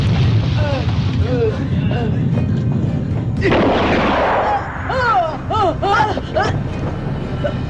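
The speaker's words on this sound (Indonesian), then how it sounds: "Jaka Sembung dan Soca pun berniat meredam serangan dari meriam tersebut, namun Soca terkena tembakan" Cannon blasts and gunfire in a martial arts film fight scene, heavy booms and bursts mixed with shouting voices and music.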